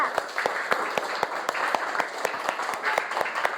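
Classroom applause from a group of students, steady clapping with sharp individual hand claps standing out, fairly close and moderately loud, running continuously without any talk.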